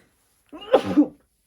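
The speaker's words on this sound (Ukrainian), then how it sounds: "чомусь хочеться чихнути" A single close, loud human sneeze with a brief gasping lead-in, heard alone in a quiet room.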